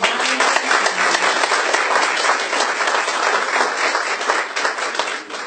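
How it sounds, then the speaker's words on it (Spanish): An audience at a legal lecture on transfer pricing applauds, a thick, even wash of many clapping hands sustained throughout at fairly high volume. "Vamos a darle un aplauso a Amparo"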